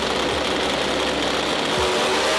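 A MotoGP racing motorcycle engine of over 300 horsepower, a loud, steady, broadband mechanical roar with a couple of brief low throbs, heard alone without talk.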